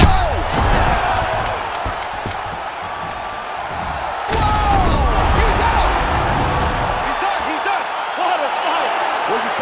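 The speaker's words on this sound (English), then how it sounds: "he picks him up and slams him down" An MMA fighter is lifted and slammed down onto the mat, landing as one heavy impact within constant arena crowd noise, with a commentator talking throughout.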